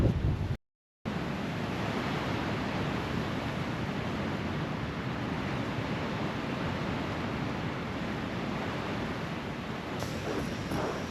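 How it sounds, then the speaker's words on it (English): Strong storm wind buffets a tent with a loud, continuous roaring rush that cuts out briefly near the start and then keeps blowing steadily, with no voices. "So the wind's even stronger than before. It's really, really kicking the tent."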